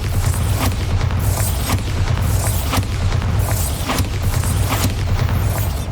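A Bombarda explosive spell in Hogwarts Legacy on PS5 sets off a string of heavy, booming blasts in quick succession, loud and close, with rumbling debris between the hits.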